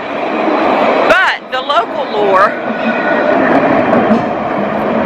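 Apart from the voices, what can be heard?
tram passing by in Dublin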